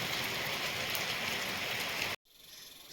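Heavy rain pours steadily in the hills of Chamoli, Uttarakhand, a dense, close hiss that cuts off abruptly near the end before a softer patter returns.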